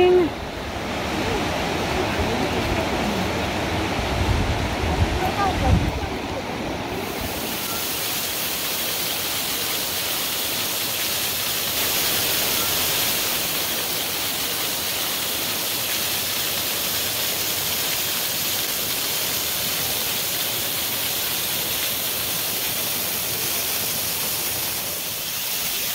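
Steady roar of rushing water from distant waterfalls near Franz Josef Glacier, New Zealand, broad and continuous with wind-like hiss; a brief low rumble near the start.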